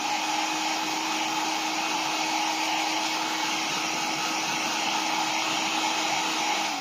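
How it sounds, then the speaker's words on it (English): A hair dryer runs steadily and loudly throughout, blowing on a wet crocheted doily being dried during a clay craft project, with a constant whirring hum and no pauses. "I'm just going to actually dry the doily off for a minute."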